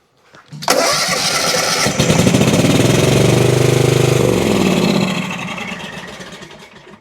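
An Exmark Vantage S mower engine cranks and catches, then runs on one cylinder with a rough, loud, close drone. It rises slightly midway, holds for a few seconds, then winds down and fades.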